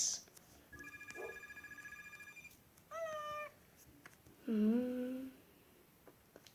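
A telephone rings twice in the Roblox game Pizza Factory Tycoon, each ring a short warbling electronic burst, with a cat-like chirp and faint background tones between them.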